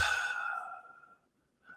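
A single long, soft exhale during a self-hypnosis breathing exercise, heard up close and airy. It fades out over about a second, followed by a faint breath intake at the end.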